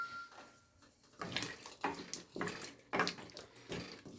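Water is poured into a cooking pot while making Iraqi-style butternut squash soup, in several splashing gushes with brief gaps between them, close and fairly soft.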